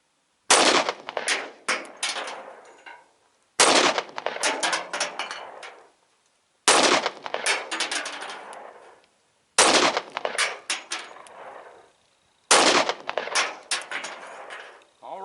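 A pistol fires five groups of .45 Auto 155-grain frangible hollow-point rounds at an outdoor range from 7 yards, each group a rapid burst of sharp, loud reports with echoing decay and short silences between bursts.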